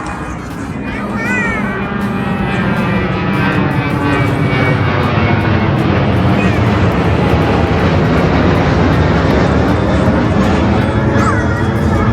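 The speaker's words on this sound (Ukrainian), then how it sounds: "Диви, який літак." A steady, loud roar of an airplane passing overhead fills the whole stretch, with faint voices mixed in underneath.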